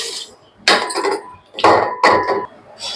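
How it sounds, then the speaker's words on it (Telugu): A spoon smashes and scrapes a biscuit mixture in a bowl. Several separate clattering bursts come close and fairly loud, with short pauses between them. "ఒకసారి మొత్తం స్మాష్ చేసుకోవాలి స్పూన్తో"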